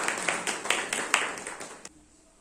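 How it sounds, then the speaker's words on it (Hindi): Audience clapping at an indoor National Youth Day celebration, a burst of steady applause from a crowd that holds for nearly two seconds and then stops abruptly. "फिर से तालियां बजाएं।"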